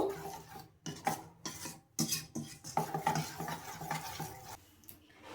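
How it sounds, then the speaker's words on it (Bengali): Dry stirring and scraping in a bowl, uneven strokes with rasping clinks of a utensil, close and fairly loud, no voices. "এবার আমি একসঙ্গে মিক্সড করে নেব।"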